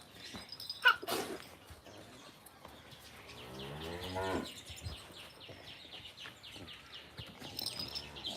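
A cow lets out one long, drawn-out moo near the middle, fairly close, among scattered farmyard noises and a brief sharp burst at the start, with no talking.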